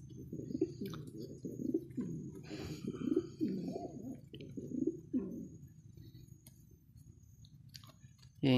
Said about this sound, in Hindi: ये देखे कबूतर मिक्स दाना खाते हुए।